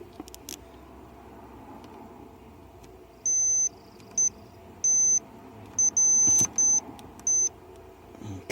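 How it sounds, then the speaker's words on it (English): High electronic tones from probing a chip on a Honda Fit, several steady beeps of varying length switching on and off over a low hum, with a few sharp clicks early on. "this chip here is also making a tone"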